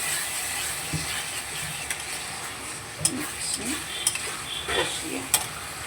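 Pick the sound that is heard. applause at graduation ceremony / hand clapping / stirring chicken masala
stirring chicken masala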